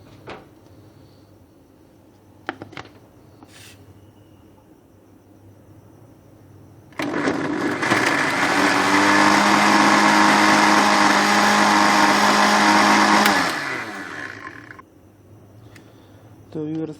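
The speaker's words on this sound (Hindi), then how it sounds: "हमने इसके अंदर इसे पीसना है ताकि इसका पाउडर बन जाए, बारीक बन जाए" A kitchen blender grinds slices of white bread into fine powder, a loud continuous whirring roar lasting about seven seconds, with quieter clicks and handling noises before and after.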